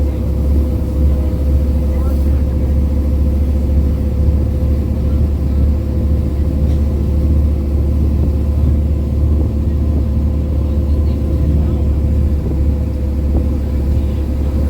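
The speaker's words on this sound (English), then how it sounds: "now that we're driving on the surface of the glacier" Ice Explorer all-terrain coach driving over the surface of the Athabasca Glacier on the Columbia Icefield, a steady loud low engine rumble and drone throughout with talk over it.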